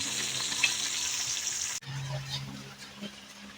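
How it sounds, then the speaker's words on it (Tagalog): Freshly caught pompano frying in a pan, a steady close sizzle and crackle of hot oil that drops briefly partway through and then continues softer with low bubbling. "At piniprito ko na yung ating nahuli"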